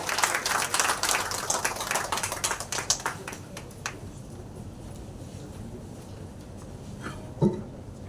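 An auditorium audience claps to welcome a minister at a Tamil-language event in Tamil Nadu, a dense patter of applause for about three seconds that thins and fades into quiet room tone.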